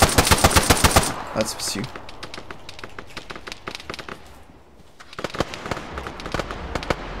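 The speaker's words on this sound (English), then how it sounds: "Shots from behind us, Lieutenant." Rapid gunfire crackles in the ARMA 3 video game, loud automatic bursts up close at first, then scattered, fainter shots continuing, with a brief spoken line in the middle.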